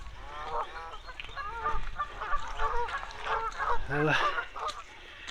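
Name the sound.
geese honking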